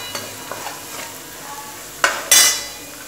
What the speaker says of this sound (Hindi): अच्छे से मिक्स कर देंगे